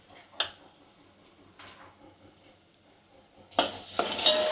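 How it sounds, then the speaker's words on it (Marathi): Red masala stir-fried with mutton in a pan, with faint sizzling and a few sharp scraping clinks of a spoon against the pan, growing louder and busier toward the end. "आता हे पण परतून घ्यायचं आपल्याला"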